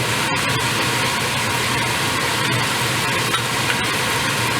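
A bottle gourd kofta curry mixture with turmeric and salt is stirred in a pan, giving a dense, continuous close-up sizzle and scraping hiss with no pauses and no talking.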